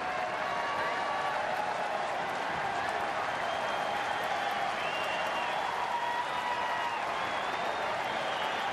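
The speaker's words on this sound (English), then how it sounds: "And here comes the crowd." A baseball stadium crowd at a Royals at Tigers game cheers and applauds steadily as one out remains, a dense, continuous roar of clapping and shouting with faint whistles over it.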